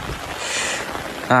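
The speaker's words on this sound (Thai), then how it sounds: "บ้านเฮาฝนตกก็สิประมาณนี้เลย" Rain falls on a rural Thai home, a steady hiss filling the air, and a voice begins speaking in the last moment.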